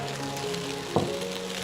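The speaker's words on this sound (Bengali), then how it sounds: "এখন দিয়ে দিচ্ছি বাকি ভাতটুকু।" Cooked rice drops into a hot pan for chicken fried rice, bringing a brief close burst over a steady background sizzle of frying.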